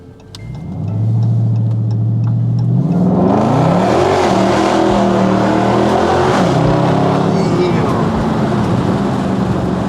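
A Dodge Charger Scat Pack accelerates hard from a low rumble into a loud, sustained engine roar as it slides sideways, with tyre noise and excited voices over it.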